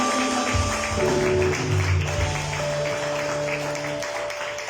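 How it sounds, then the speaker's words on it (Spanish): A church congregation claps during a Bible study service, with tapping hand claps under sustained musical tones from instruments, at moderate loudness throughout. "Denle un fuerte aplauso al Señor."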